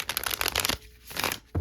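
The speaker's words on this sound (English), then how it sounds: "Give me a second while I shuffle this up" A deck of cards is shuffled up close, with a burst of riffling, a short pause, then another quick flutter of cards.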